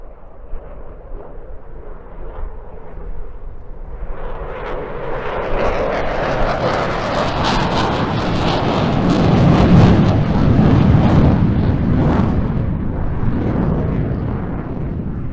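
Eurofighter Typhoon with twin EJ200 engines at an airshow, a loud roaring jet that builds from a distant rumble into a powerful close pass and holds strong through the end.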